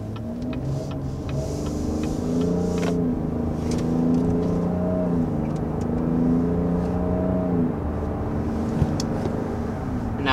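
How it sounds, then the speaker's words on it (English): A front-drive 2021 Cadillac XT6 cruising at about 55 mph, heard from inside the cabin as a steady, moderately loud drone of engine and road noise with shifting low tones and no talking. "Now that we're up to 55 miles per hour, let's get a sound level reading."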